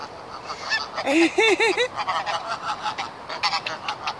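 Geese honk by canal locks at Bingley, several close, rising-and-falling calls in a quick run, then scattered fainter honks over outdoor background noise.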